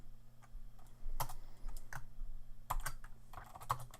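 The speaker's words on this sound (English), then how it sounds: "So I'm going to type git clone, and I paste in the repository" A git clone command is typed on a computer keyboard, a close run of quiet, irregular key clicks with short pauses and a few sharper taps, under a faint steady hum.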